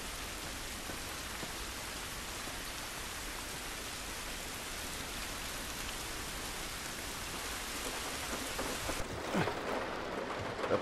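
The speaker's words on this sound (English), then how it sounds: "It's raining." Steady rain pours down in The Last of Us video game, a dense even hiss of drops on surfaces, with a few louder splashes and knocks near the end.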